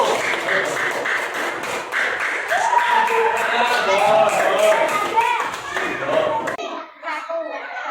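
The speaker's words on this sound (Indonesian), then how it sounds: "Beri tepuk tangan dulu pada kelompok 1." Schoolchildren in a classroom clap for a student group, quick uneven bursts of hand claps mixed with children's voices and chatter, fading toward the end.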